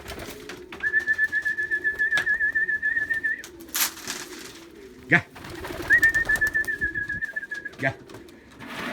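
A homing pigeon coos in repeated soft, rhythmic phrases, close by, with brief pauses between bouts and occasional clicks and knocks in the background.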